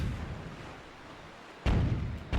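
Two deep, booming cannon blasts from cannon boats in The Legend of Zelda: The Wind Waker, the first heavy and sustained, the second following moments later after a low rumbling background.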